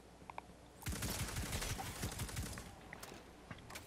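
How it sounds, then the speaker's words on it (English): Video game auto rifle fires a rapid sustained burst of roughly a dozen shots over about two seconds, fairly loud and close, then trails off into quieter ambient game sounds with a few scattered sounds. "Using this auto rifle,"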